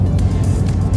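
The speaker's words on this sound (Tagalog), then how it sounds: "Overtake ng driver, ang bilis." A car on an open highway between Carnarvon and Karratha roars steadily with loud, low engine and road noise, as if close alongside while overtaking at speed, with no voices.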